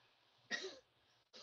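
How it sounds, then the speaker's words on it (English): A woman clears her throat in a short, rough burst, followed moments later by a second brief rasp, fairly quiet and close. "She's clearing her throat"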